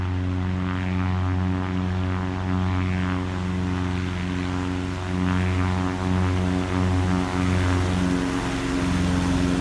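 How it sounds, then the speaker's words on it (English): A Diamond DA20 single-propeller light aircraft in the X-Plane 12 flight simulator hums with a steady, loud engine drone that rises slightly midway, with no talking. "Check out those sounds."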